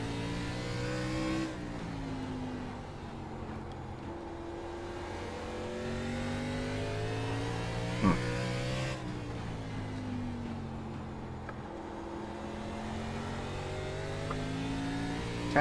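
Race car engine in the iRacing simulator at an ARCA event on the Southern National short track, a steady loud drone that rises and falls in pitch as it revs through throttle changes, with no voices.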